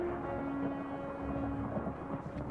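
A cartoon thunderstorm: loud rumbling thunder rolls over steady rain, continuous and close.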